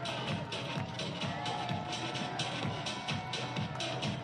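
Steady murmur of a crowd at a North Carolina FC versus Tampa Bay Rowdies football match at WakeMed Soccer Park, a continuous distant wash beneath a commentator's voice.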